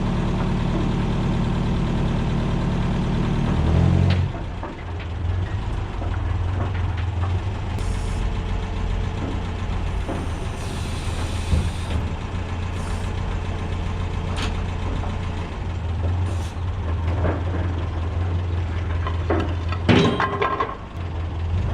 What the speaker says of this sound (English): drive the forklift up on it and put it where we want it